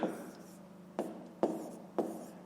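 Pen strokes writing numbers by hand on paper: soft scratchy scribbling with several brief sharper taps, close and quiet, under a faint background.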